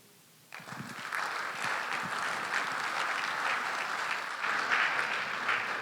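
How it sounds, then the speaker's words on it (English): Applause breaks out from the audience at the 2017 Ghana CEOs Summit after a paper presentation, starting abruptly and building into sustained, fairly dense clapping that continues at a steady level, heard on its own without speech. "Professor Stephen Adeh, how about a resounding round of applause?"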